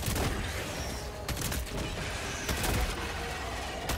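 A video game crossbow fires in rapid repeated bursts, sharp snapping shots with mechanical clacks between them, loud and close, with a few brief pauses.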